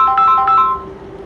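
A phone ringtone plays a bright, repeating melodic tune for an incoming call, loud and close, then holds a steady tone that fades out, with no talking over it.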